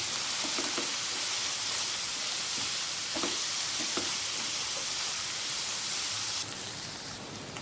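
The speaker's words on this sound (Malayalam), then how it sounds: "നമുക്കൊന്ന് വഴറ്റി കൊടുക്കാം." Sliced onions and a slit green chili sauté in a pan for an egg curry, giving off a steady, dense sizzle with faint scraping stirs now and then. The frying softens slightly near the end, and nobody speaks.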